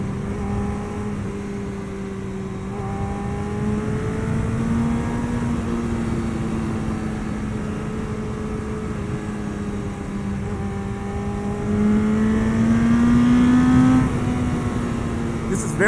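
1988 Yamaha FZR 1000 motorcycle engine humming steadily while riding, with gradual pitch swells as it accelerates in gear and wind rushing underneath, heard from on the bike and fairly loud.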